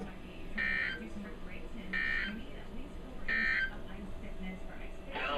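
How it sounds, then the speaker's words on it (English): NOAA weather radio alert tone sounds during a weekly test: three or four steady beeping bursts repeat at even intervals over a faint, narrow-band broadcast hiss. "this has been a weekly test of the NOAA All Hazards Radio Public Warning Alarm System"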